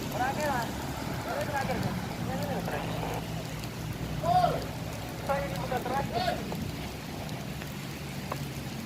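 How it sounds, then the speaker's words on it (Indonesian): Rain falls steadily at Merak harbor, a seaport, in a continuous broadband hiss that runs through the whole stretch, with indistinct voices and other faint sounds mixed in. "Pelabuhan Merak turun hujan"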